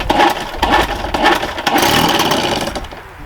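A 1976 Johnson Seahorse outboard motor sputters as someone tries to start it, giving loud, uneven mechanical churning with clattering bursts that fade slightly toward the end.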